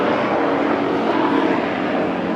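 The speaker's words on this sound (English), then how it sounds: "And a helicopter in the background." A helicopter flies somewhere in the background outdoors, a constant broadband engine and rotor drone that stays loud and even throughout with no speech over it.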